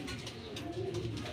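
Racing pigeon cooing at a race arrival, soft low rolling coos close by, repeated over a brief moment with faint background noise.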